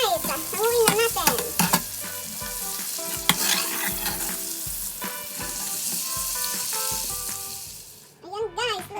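Oysters fry in a pan with loud, continuous sizzling and crackling under repeated stirring and scraping, with voices talking over it before the sizzle drops away near the end.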